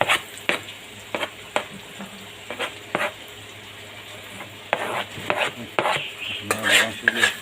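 Garlic sizzles in a hot pan while being stirred for mussels cooked in butter and oyster sauce, with repeated scraping strokes of a utensil over a steady frying hiss, close and clear.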